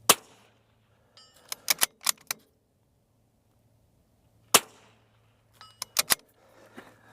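Sharp cracks from a Vudoo .22LR rifle set in an MDT ACC Elite chassis: one shot at the start, a tight run of reports around two seconds, another lone crack near four and a half seconds, then a further quick cluster, all close and loud.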